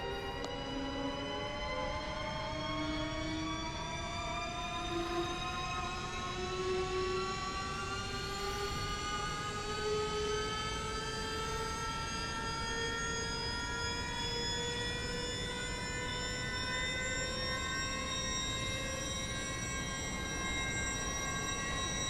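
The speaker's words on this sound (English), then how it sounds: "It's like a jet firing up as I slowly come up to speed." An all-electric Porsche Mission R racecar in the iRacing sim gives a steady whining motor tone that climbs slowly in pitch as it gathers speed, loud and continuous, with no talk.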